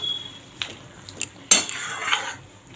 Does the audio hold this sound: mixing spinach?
yes